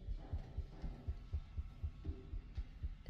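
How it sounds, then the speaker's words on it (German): Heartbeat in the video game Man of Medan, a low, muffled, steady double-thump pulse repeating about every half second under a faint droning hum, with no talk. "Hier geht ein Herzschlag."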